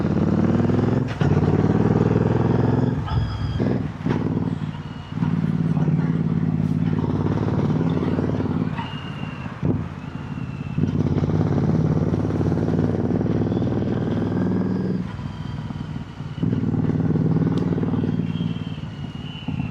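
A motorcycle rides quickly along a road between Delhi and Gurgaon, its engine droning steadily with rises and dips in pitch, wind and road rumble around it and occasional rattles.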